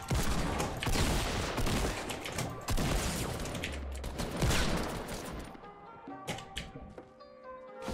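Rapid loud gunshots in a video game, attributed to a Desert Eagle pistol, crowding together in a dense volley for several seconds before thinning into a few sharp, separate cracks.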